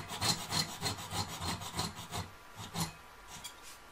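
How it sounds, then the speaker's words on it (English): Metal being hand-sawn with a piercing saw along long marked lines while cutting out a Christmas bauble, a close rhythmic rasping of quick regular strokes that thins out toward the end. "to carefully saw along those long lines"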